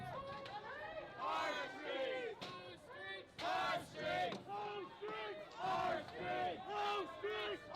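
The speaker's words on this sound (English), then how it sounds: "Yeah, good sized crowd here." A large protest crowd in Portland marching toward police chants and shouts in loud, rhythmic bursts close by, with overlapping voices throughout.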